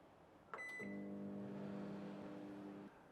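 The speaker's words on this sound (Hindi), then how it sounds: "और एक बार फिर ये जाएगा माइक्रोवेव में।" A microwave oven cooking a dal tadka at full power hums steadily after a short beep as it starts, running at an even drone for a few seconds before cutting off.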